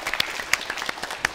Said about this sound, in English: All right, give them a round of applause.